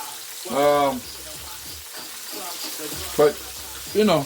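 Steady sizzling of food frying in a pan runs throughout, with a voice speaking briefly over it.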